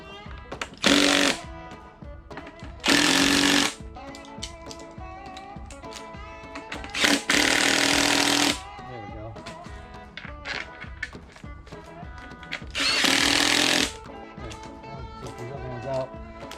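A power driver tightens screws on a 21-inch front tire spine during installation. It fires in four short, loud bursts of about a second each over a steady background.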